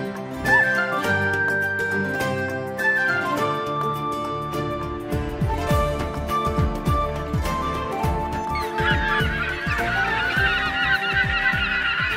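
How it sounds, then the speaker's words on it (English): A colony of aggressive seagulls calls on Iceland's Snæfellsnes Peninsula, a dense, continuous chorus of harsh honking and squawking cries that stays loud and close throughout, with no talking. "here we just see all the seagulls, and they are pretty aggressive"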